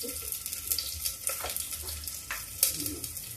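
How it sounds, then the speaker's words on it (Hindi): Onions fry in a pan, giving a soft, continuous sizzle broken by a few brief stirring scrapes. No one speaks. "तो थोड़ा सा प्याज भूनने के बाद फिर मसाला डालते हैं।"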